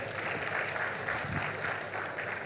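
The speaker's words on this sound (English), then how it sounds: "Another round of applause for Governor Wesley." An audience at a live digital health event applauds the governor with steady, moderately loud clapping that lasts the whole moment, with no voices over it.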